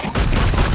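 Gunfire from the Venerable Dreadnought in Chaos Gate - Daemonhunters: a dense, continuous burst of heavy shots that stays loud and steady for nearly a second.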